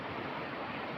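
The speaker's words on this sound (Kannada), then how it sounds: "ನೀರಿನ ಶಬ್ದ" Steady rushing water from a flowing stream fills the whole moment, a dense continuous wash with no breaks or voices.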